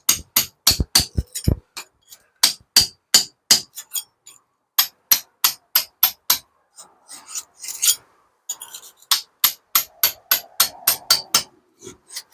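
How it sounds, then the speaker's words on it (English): Hammer and chisel chipping at old brick during historical preservation work: sharp, loud, close metallic strikes in a steady rhythm, some quick flurries, with brief gaps and light scraping between blows. "So now we need a hammer and chisel just to finish it off."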